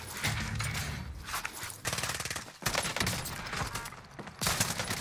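Streetsweeper shotgun fire in the game Call of Duty: Warzone, with loud repeated blasts in dense bursts and rapid overlapping gunfire filling the whole stretch, close and harsh.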